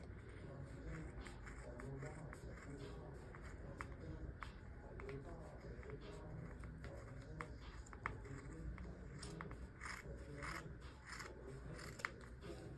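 Scissors snip steadily through fabric for a toddler's two-toned Dickies dress sleeve, a continuous close rasping and clipping with soft rustling of cloth throughout, no voices.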